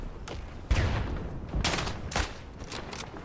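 Rifle shots from the Isonzo video game crack out in a loose volley, several sharp reports spaced unevenly, some close and loud, others more distant.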